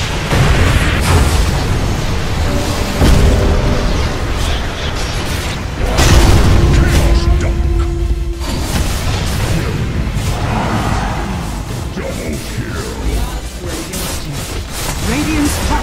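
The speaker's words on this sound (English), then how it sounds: "Radiant's top barracks are under attack." Dota 2 game battle audio as a Radiant barracks comes under attack, with a dense, steady stream of booming explosions and impacts running throughout, with voices in the mix.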